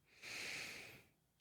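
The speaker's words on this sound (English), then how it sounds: "Breathe in." One deep breath drawn in through the nose, a faint airy inhale that rises quickly, holds for most of a second and then fades.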